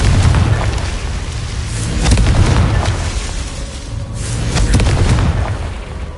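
The Confringo spell in Hogwarts Legacy sets off loud, booming blasts, heavy rumbling explosions that swell and recur across several seconds, close and forceful.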